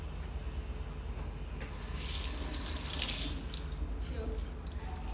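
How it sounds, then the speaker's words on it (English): Hands are washed under a running tap at a sink, with a steady rush of water that gets louder and splashier midway as the hands move through the stream. "we got to wash our hands to stay safe from coronavirus."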